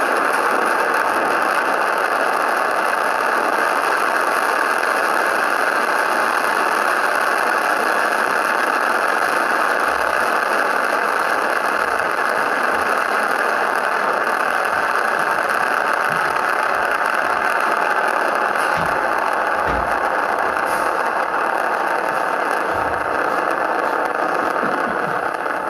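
SpaceX Falcon 9 first-stage rocket engines during launch: a steady, dense roar with broadband hiss and a low rumbling undertone, continuous and loud, with occasional low crackles and no speech.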